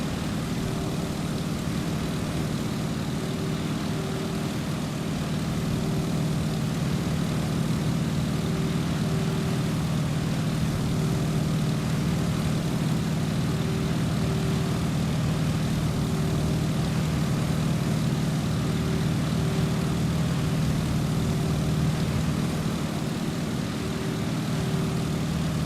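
A Stearman biplane's engine in Microsoft Flight drones steadily and loudly throughout, a constant low propeller hum with a faint tonal whine and no talk over it.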